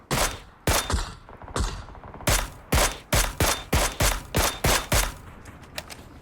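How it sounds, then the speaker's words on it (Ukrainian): Rapid bursts of gunfire in PUBG, sharp loud shots in quick irregular succession, some grouped in short volleys, with brief pauses between. "Галімов він почав стріляти"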